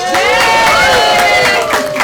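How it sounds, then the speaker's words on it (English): A crowd at a costumed 1869-themed showcase cheers and applauds for a President Ulysses S. Grant impersonator, loud and close, with overlapping whoops and shouting voices over steady clapping. "let's here have a round of applause for the President of the United States, Ulysses S. Grant"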